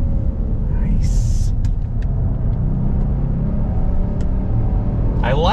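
A 2022 Genesis GV70 SUV accelerates loudly from inside the cabin, with a dense engine and road rumble and brief breaks as the transmission shifts, and someone talks over it.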